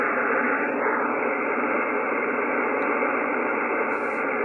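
Steady, loud hiss of receiver noise from a Yaesu FTdx5000MP Limited amateur radio tuned through a mu-tune preselector, an unbroken band-limited static rush with a small shift early on and no voices.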